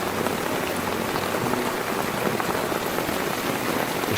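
Rain falling steadily outside an open camp door, a dense even hiss of drops on surfaces with no breaks, close and constant, no speech.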